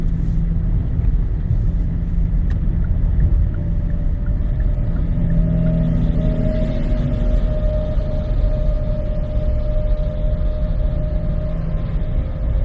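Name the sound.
car driving on highway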